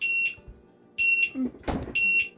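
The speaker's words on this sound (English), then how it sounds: "Yeah, that beeper is scary." Kitchen oven timer beeping while a cake bakes: three sharp, loud high-pitched beep bursts at a steady pace, with a brief clatter between the second and third.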